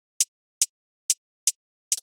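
An edited hi-hat loop from an electronic track plays as very short, bright, clipped ticks at an even spacing, then ends with a quick cluster of three taps.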